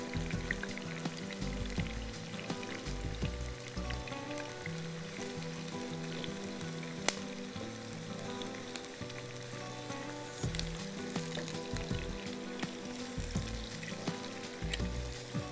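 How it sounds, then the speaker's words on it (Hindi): Onions frying with cloves and black pepper in a pan until golden, a steady soft sizzle and crackle running throughout, close and fairly quiet, with no talking over it. "प्याज को हम थोड़ा सा गोल्डन करेंगे।"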